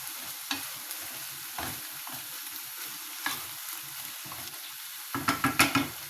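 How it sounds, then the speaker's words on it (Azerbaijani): Chopped tomatoes are stirred in a frying pan while preparing qrechka, giving soft scraping sounds over a low sizzle, then a quick run of louder clatters at the end; no one speaks. "pomidorumuzu da doğradıq və əlavə edirik. Deməli, etdikdən sonra yaxşıca qarışdırırıq"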